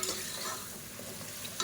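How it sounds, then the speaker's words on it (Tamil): Mushrooms sizzle and fry steadily in a hot pan, with soft stirring scrapes, close up and without any talking. "இப்போ இந்த மஷ்ரூம் நல்லா வதக்கி விட்டுக்கலாம்."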